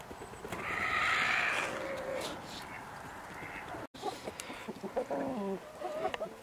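A bird on a homestead clucking and calling outdoors on a frosty day, with louder calls early on and scattered short clucks after a brief cut, over faint background noise.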